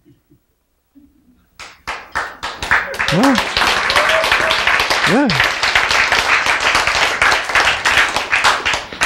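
Sparse claps in a lecture hall grow into steady, dense clapping from a group of students, continuing loud and close, with voices speaking over it.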